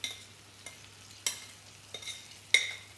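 Onions cook in liquid in a pan with a low, soft sizzle, broken by about five quiet, regularly spaced stirring scrapes, no one talking.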